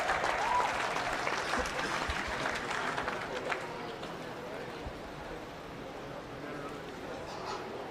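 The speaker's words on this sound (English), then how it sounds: "So give the kids a big round of applause." Spectators at a summer swine show applaud the young exhibitors with a broad, steady wash of clapping that is faint and distant, gradually thinning over several seconds.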